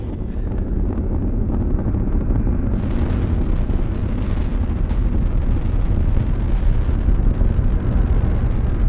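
Atlas V rocket booster roaring during the GOES-R launch, a loud, unbroken low rumble that fills the whole span like heavy wind, with no clear voices over it.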